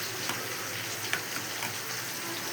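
Rohu fish head frying in hot oil gives a steady, dense sizzle with faint crackles and a few sharper pops, close and continuous throughout without any voices.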